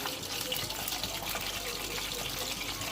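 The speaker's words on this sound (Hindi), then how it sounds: "ये देखें हम फ्राई कर रहे हैं।" Degi spicy charga chicken frying in a pan, a steady close sizzle and crackle running throughout with no pauses.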